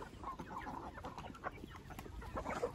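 Several chickens cluck softly and irregularly at close range, with scattered short calls overlapping in a quiet setting.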